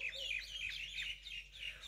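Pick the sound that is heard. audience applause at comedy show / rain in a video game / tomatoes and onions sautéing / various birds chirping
various birds chirping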